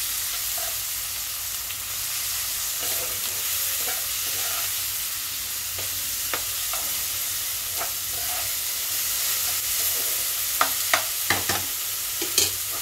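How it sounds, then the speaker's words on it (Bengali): Mourola fish coated with turmeric and chili powder fries in a pan with a steady close sizzle, while repeated spatula scrapes and taps against the pan grow sharper toward the end. "এবার আমি ভালো করে ভাজা করে দিচ্ছি।"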